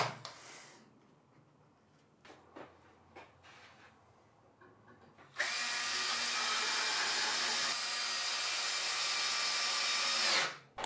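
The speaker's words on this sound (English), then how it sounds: "And finally the last screws into the horizontals." A power drill driving the last screws into the horizontals of a Simpson Simply Build It workbench: a few scattered knocks and handling sounds, then one long, loud, steady whirring run lasting several seconds before stopping abruptly.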